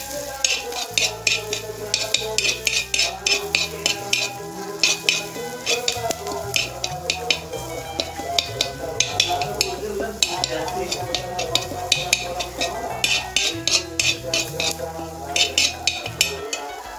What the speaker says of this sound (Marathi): हलवून घ्यायचे जरा.